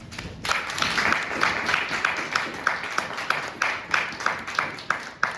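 Audience applause for panelists at a congressional briefing on diversity, equity and inclusion: a moderately loud crowd clapping, with a rhythmic pattern of sharp, evenly spaced claps beating through the steady wash.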